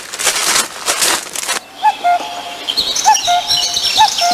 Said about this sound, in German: hör auf mit dem blöden Kuckucksgeschrei